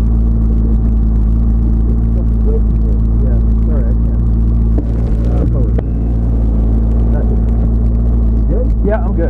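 A McLaren MP4-12C sports car engine runs in gear at Circuit of the Americas, giving a loud, steady, low droning rumble heard from inside the car, with voices talking over it.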